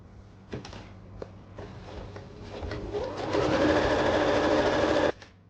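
A sewing machine stitches a kurti neck, starting with a few clicks and short runs, then speeding up into a steady loud whir before stopping sharply.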